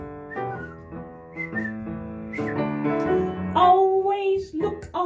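A person whistles a tune at a birthday celebration, a wavering melodic line that grows louder toward the end, with a few breathy breaks between phrases and no talking.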